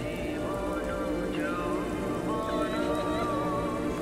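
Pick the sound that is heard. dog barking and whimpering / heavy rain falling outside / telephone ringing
heavy rain falling outside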